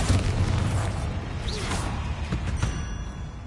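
Bombarda explosion spell cast in Hogwarts Legacy: a booming blast with a rushing whoosh and scattered pops, loud and close, with no speech over it.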